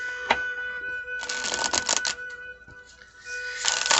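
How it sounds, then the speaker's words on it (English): Tarot cards are shuffled up close, several short crisp riffling bursts and quick snaps of card edges separated by brief pauses, fairly quiet. "let me give this a shuffle"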